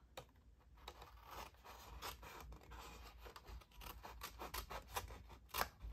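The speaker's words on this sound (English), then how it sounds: "So let me show you if I cut up like I did before." Scissors snip through paper while a craft bag is being made, giving a quiet, steady run of close rustling cuts and scrapes with no talking.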